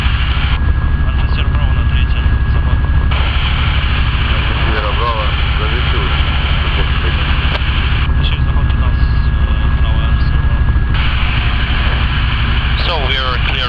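Light aircraft engine droning steadily from inside the cockpit on a first solo flight approaching runway 15 right, a loud continuous hum with radio and pilot talk over it throughout.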